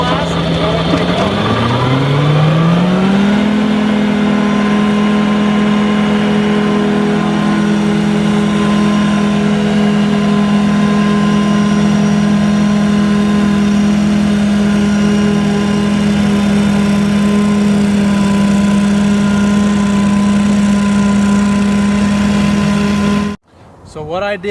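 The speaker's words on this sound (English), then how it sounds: "So what I did is I went around the entire perimeter with the mower" A lawn mower engine at full throttle with blades engaged, rising in pitch over the first few seconds and then holding a loud, steady drone until it cuts off abruptly near the end.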